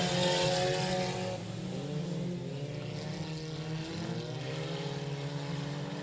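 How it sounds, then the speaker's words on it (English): Four-cylinder race cars in a heat race at Texarkana 67 Speedway: several engines roar loudly and continuously, their pitch rising and falling as the cars pass around the track. "Here comes Jesse Tate to the race lead in your 4-cylinder heat race number 2"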